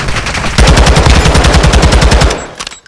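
A rapid automatic weapon fires a sustained, loud, close burst of evenly spaced shots lasting about two seconds in Call of Duty: Modern Warfare 2, then cuts off with a few faint trailing clicks.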